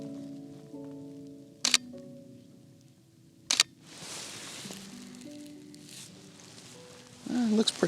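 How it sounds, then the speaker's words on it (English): Two sharp camera shutter clicks from a Canon body with an 800 mm lens shot handheld outdoors, spaced about two seconds apart, amid quiet ambience and someone talking. "We're taking pictures with the 800 millimeter."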